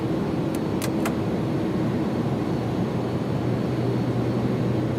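Inibuilds A300 airliner touching down in X-Plane 11, a steady loud roar of engine and rolling noise throughout with a few brief high clicks early on, no talking.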